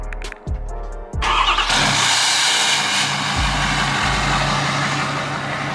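A 2020 Ford Powerstroke diesel pickup with a 5-inch aftermarket exhaust cold-starts with a few quick cranking pulses, then catches into a loud, steady rumbling idle right up close.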